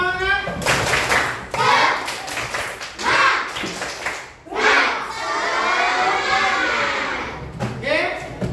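Schoolchildren in a classroom doing a rhythmic spirit clap, bursts of patterned clapping mixed with loud shouted chanting from the group, repeating several times over a few seconds.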